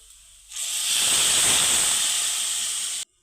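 Hot water hits a hot pan of vermicelli with a sudden loud steaming hiss that holds steady for about two and a half seconds, then cuts off abruptly.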